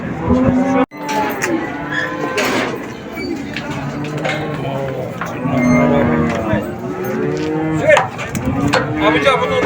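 Cattle at a live animal market in Çubuk low and moo repeatedly, several loud, drawn-out calls close by, mixed with crowd chatter and people talking throughout.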